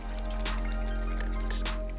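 Water with cleaning solution and OxiClean is stirred by hand, giving soft sloshing and dripping splashes in a couple of brief swirls over a steady low hum, close by with no talk.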